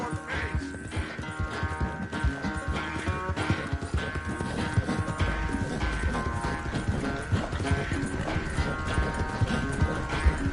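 Horse hooves clip-clopping steadily as a rider trots along in Red Dead Redemption 2, rhythmic close hoofbeats with creaking tack and a game score underneath.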